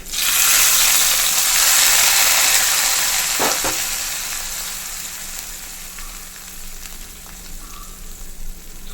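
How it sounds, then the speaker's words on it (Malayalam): Hot tempering hits a fish curry of mackerel and drumsticks with a loud hiss that bursts at once, then settles into a softer, steady sizzle with a few faint clicks, no voices. "ഇനി താളി താളിപ്പ് കൊടുക്കാം"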